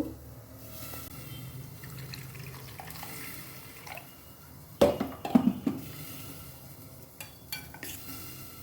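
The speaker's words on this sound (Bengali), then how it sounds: "এবার এটাকে জল দিয়ে গুলিয়ে নেব" A spoon clinks and scrapes in a bowl as two spoons of cornflour are mixed with water, with faint dripping early on, then a cluster of sharp close clatters and scattered knocks.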